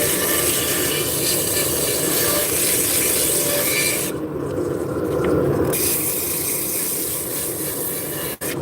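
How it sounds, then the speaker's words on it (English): Wooden pieces being sanded after their edges are rounded over, a steady, continuous abrasive rubbing and rasping that runs at close range with a brief break partway through and no talk. "So we're rounding over the edges and then doing the initial sanding on them."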